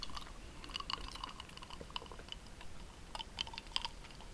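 Soft, close mouth sounds of someone eating Krispy Kreme Christmas doughnuts, scattered quiet chews and sticky clicks across several seconds with no talking.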